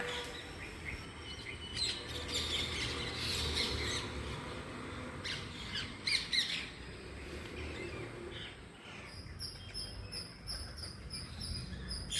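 Several birds squawk and call sharply over a steady bed of chirping insects, with harsh bursts repeating on and off at moderate distance, in a backyard garden in the morning.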